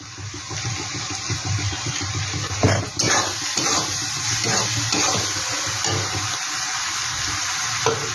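Turmeric being stirred into a frying pan while cooking coconut chicken: a steady sizzle with scraping, clattering stir strokes at irregular intervals, close up.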